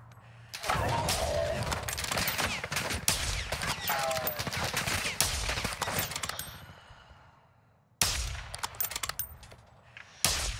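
Dense bursts of rapid gunfire crackle for several seconds, trail off into near silence, then resume in sharper, scattered shots; a faint voice can be heard underneath, in Call of Duty: Modern Warfare II DMZ.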